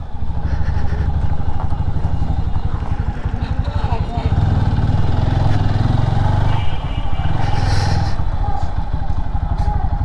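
A motorcycle runs at night, its engine a loud steady rumble close by with slight rises in revs and rattling road noise throughout.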